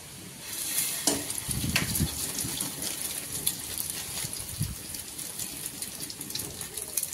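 Slices of bread fry in a pan for egg toast, a soft continuous sizzle with occasional scraping and stirring knocks, moderately quiet and close.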